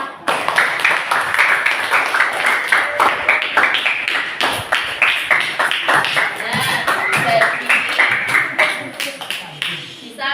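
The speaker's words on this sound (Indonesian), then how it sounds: "Beri tepuk tangan untuk kelompok 5." A classroom group claps in a rapid, uneven burst that continues for about ten seconds, sharp hand claps overlapping throughout with a few voices mixed in.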